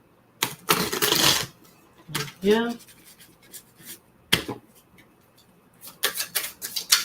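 Oracle cards shuffled in a few short, close riffles and slaps, mixed with brief taps and a single short spoken word.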